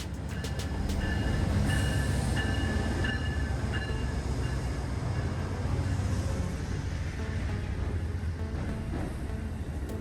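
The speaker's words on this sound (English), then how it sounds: "Completing its quick stop, train 463 carries on towards New Haven." A train led by a P42DC locomotive pulling a coach departs a station, a loud rolling rumble of wheels on rail with clicking joints and a brief high squeal early on.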